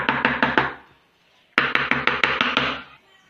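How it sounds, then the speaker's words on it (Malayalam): Two quick bursts of sharp metallic taps, about five each, as steel glasses filled with cupcake batter are knocked against a surface, separated by a brief pause. "ഇനി നമുക്ക് ഈ ഗ്ലാസ്സിൽ ഒഴിച്ചതൊന്ന് തട്ടി കൊടുക്കാം"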